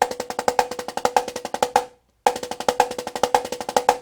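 A snare drum plays rounded, evenly flowing old-school six-stroke rolls as sextuplets with regular accents, a steady run of crisp strokes, a brief pause, then the pattern resumes.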